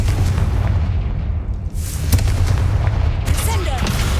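Confringo fire spell blasts in Hogwarts Legacy, heavy booming explosions with deep rumbling and a crackling burst midway, loud and close amid other game effects.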